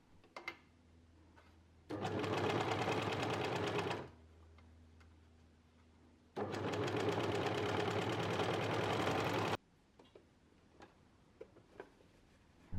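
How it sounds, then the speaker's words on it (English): Overlocker stitching along a seam edge in two loud, steady whirring bursts of a few seconds each, separated by a quiet pause, close up with faint handling clicks around them. "Overlock the edge of the seam that you just sewed."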